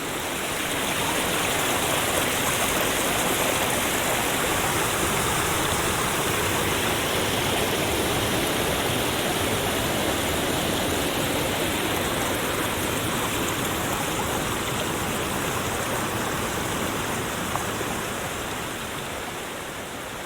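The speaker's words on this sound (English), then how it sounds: "I was recording the sounds of the water with my binaural microphones" A mountain stream on the John Muir Trail near Forester Pass flows continuously and fairly loud, a dense unbroken hiss of water tumbling over rocks, recorded binaurally, with no voices.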